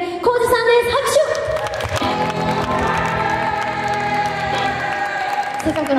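An audience at a Christmas live concert in a hall applauds the supporting guitarist. Dense clapping and some cheering are spread across the room and hold steady, with ringing instrument tones at the start.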